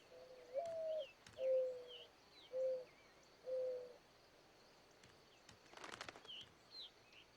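Male doves sing their courtship song: four soft, low, hooting coos in a slow series, heard alone and fairly faint outdoors with insects chirping and a brief rustle behind.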